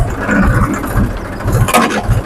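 A tractor engine runs in first gear, a steady low mechanical drone with faint rattling and scraping, close and continuous, no one speaking.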